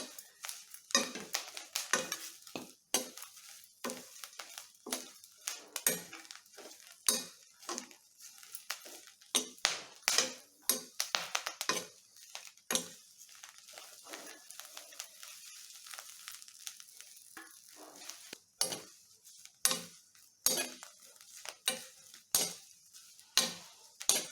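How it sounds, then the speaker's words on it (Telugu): Drumstick leaves and gongura pods fry together in a pan, with a steady sizzle under dense, rapid clinks and scrapes of a spoon stirring against metal. "మూడు కలిపి వేయించుకోవాలి"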